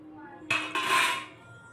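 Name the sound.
paneer being added into a pan of masala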